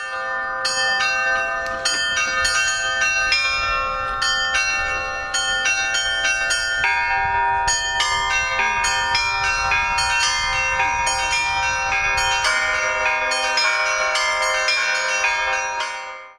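Church bells ring at a Cossack bell-ringing festival in a rural district. Several bells of different pitches overlap in a continuous, layered peal of repeated strikes with long ringing decay, and no talk is heard.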